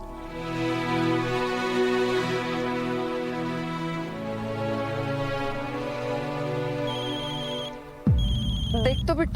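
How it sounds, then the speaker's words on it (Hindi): A melodic phone ringtone plays steadily for several seconds, then cuts off as a voice begins talking over a brighter tone. "किसका फोन है।"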